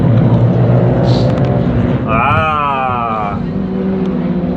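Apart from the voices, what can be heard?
Renault Clio 5 Cup race cars starting free practice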